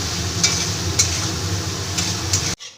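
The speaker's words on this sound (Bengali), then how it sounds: "এবার মশলাটাকে আমি ভালো করে কষিয়ে নেব খুব ভালো করে কষাবো এবার মশলাটাকে" Spice paste with turmeric being stirred and fried in a pan, a steady close sizzle with a few sharp scraping taps before cutting off abruptly.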